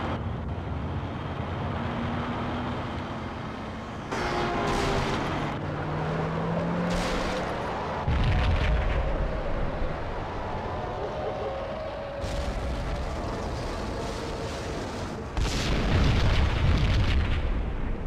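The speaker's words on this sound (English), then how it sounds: "Another bomb exploded inside the closest slum building." Bomb explosion in the video game Max Payne heard as heavy booming blasts with rumbling low roar and crackling debris, set over a continuous dense background of game noise.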